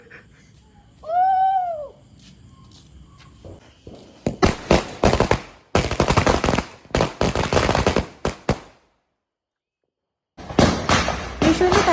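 Firecrackers burst on the night before the Vishu festival in Kerala, a rapid cluster of loud, sharp cracks in close succession, then a brief pause and a fresh burst, with a whistling rocket-like rise heard earlier.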